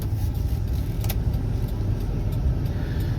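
A tractor engine runs wide open while backing up on a farm, a steady loud low rumble holding continuously and close with no voices over it.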